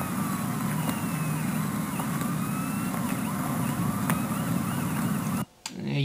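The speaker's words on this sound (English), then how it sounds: "we hear this siren in the background." A siren wails in the background over dense, steady noise, then cuts off abruptly near the end.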